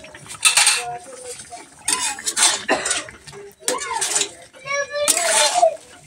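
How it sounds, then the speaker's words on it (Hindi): A Bihari black fish curry with coriander leaves is stirred in a pot, producing irregular bursts of utensil clatter and scraping against the metal, close by, with voices talking in between. "अब अच्छे से मिला लेते हैं।"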